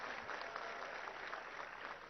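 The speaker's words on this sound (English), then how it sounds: "I think you should welcome him with a good round of applause" A round of applause at an international engineering conference welcoming a guest. It comes as a steady, faint, distant wash of many hands clapping, with no voices on top.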